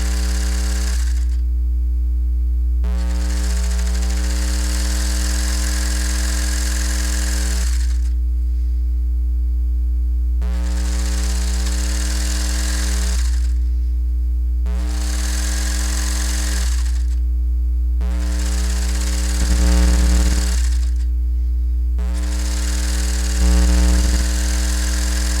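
A serger sewing machine runs along a jacket seam in several bursts of steady whirring buzz, each lasting a few seconds and separated by short pauses, over a constant low electrical hum.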